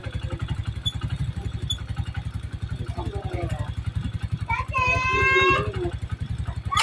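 A Honda TMX 125 motorcycle engine converted to 175cc idles close by with a steady, low, pulsing putter throughout, while people talk over it.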